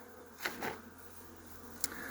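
Honey bees hum faintly and steadily in a hive just opened for its first spring inspection after wintering indoors, with a few soft knocks and one sharp tap over the low buzz.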